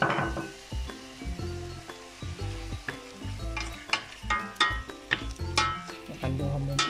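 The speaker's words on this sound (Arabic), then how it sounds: "بعد ما قلينا اللحم تاعنا بالبصل والمعدنوس" Meat frying with onions and parsley in a pan for a tajine, a steady sizzle broken by repeated stirring scrapes and utensil clinks, close and fairly loud.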